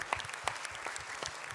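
A church congregation claps in a brief burst of scattered, uneven hand claps, moderately close and fairly light, with no voices over it.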